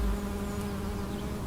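Bees buzzing among spring flowers in a vegetable garden, a steady low drone holding for the whole stretch, faint and continuous with no talking.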